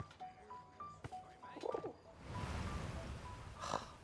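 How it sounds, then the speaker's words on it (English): A pigeon coos in the World War One game 11-11 Memories Retold, soft repeated calls over a quiet outdoor ambience with faint distant chirps. "I know you've got a pigeon, and I know it's very clever"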